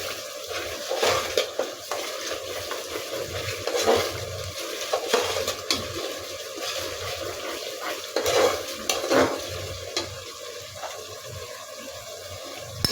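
Fried masala mixed with cumin powder for a beef and raw jackfruit curry is stirred in a pan, a spoon scraping and knocking repeatedly against the metal over a soft, continuous sizzle.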